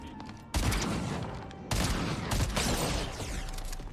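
A weapon fires in Fortnite Chapter 5 Season 2: two heavy, booming shots about a second apart, each followed by a dense, rumbling game soundscape.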